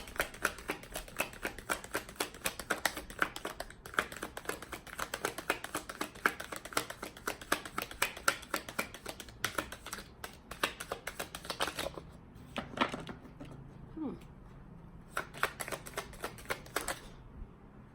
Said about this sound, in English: Just gonna shuffle one more time as I clarify the last card